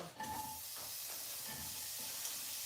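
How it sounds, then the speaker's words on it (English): Onions sizzle in a pan on the stove, producing a soft, continuous hissing crackle. It is faint and steady, with a few light clicks and pops over the short stretch. "So I'm putting the onions on the stove."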